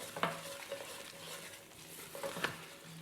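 Flour being stirred into a pan for a French chicken casserole, a soft steady sizzle with a few distinct scraping strokes of a spoon against the pan, quiet and close.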